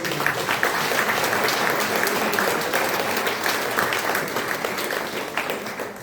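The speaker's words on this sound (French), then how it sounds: "Je peux vous demander de bien vouloir applaudir Madame Marie-Roger Bilowa." Sustained audience applause fills a hall at a Brussels award ceremony for the Victoire Ingabire prize, dense steady clapping from many hands, loud and continuous throughout.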